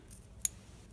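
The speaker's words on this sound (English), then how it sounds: "I'm going to cut off this bottom piece." One quick, quiet snip of scissors with masking tape stuck to the blades, cutting a piece off a sheet of paper, standing alone in near silence.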